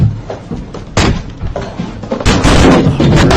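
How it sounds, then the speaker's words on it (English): Heavy thuds of a Rocket League player slamming his computer desk, a sharp impact near one second followed by a louder, sustained burst of banging and rattling from about two and a quarter seconds onward, close and forceful. "So slamming his computer desk because it's devastating."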